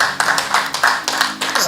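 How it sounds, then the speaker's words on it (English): Rhythmic clapping, close and fairly loud, beats out a steady pulse of distinct hand claps from an audience, with a low hum of voices beneath. "A round of applause, please."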